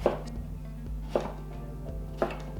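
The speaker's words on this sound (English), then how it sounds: "we'll cube up the squash" A knife cubes pumpkin squash on a cutting board with three evenly spaced, solid chops, each a sharp thud with a short knock, over a faint low background hum.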